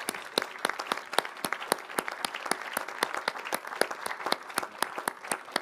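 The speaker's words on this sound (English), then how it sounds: "can we give them a massive round of applause for their investment over these last years?" Applause from the audience at the CGI 2016 Annual Meeting, with sharp, closely spaced claps from a moderate crowd forming a steady, lively round that carries on evenly throughout.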